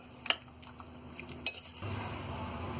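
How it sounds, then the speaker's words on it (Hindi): Spoon stirs and clinks through a dry mix of salt, chilli, cumin, mustard seed and black pepper with yogurt for a fish curry, two sharp taps followed by soft, steady mixing, quiet and close. "मिर्च, जीरा, राई और काली मिर्च, इन सारी चीजों को हम अच्छी तरह मिक्स कर लेंगे।"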